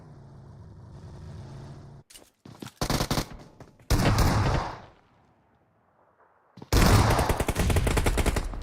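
Gunfire in a competitive PUBG Mobile scrim match, with loud bursts of rapid automatic shots separated by short quiet gaps and fainter background game sounds.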